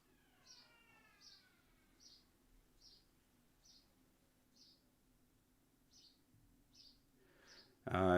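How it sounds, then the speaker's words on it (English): Birds chirp in the background in a steady series of about nine short, high, evenly spaced calls, fairly faint against a low hum, with a loud burst of noise at the very end. "are those birds in the background?"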